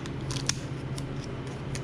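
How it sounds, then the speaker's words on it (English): Scissors snipping open a cream cheese package, a few quick, quiet cuts in a soft irregular rhythm over low room hum. "I think I can use the scissors."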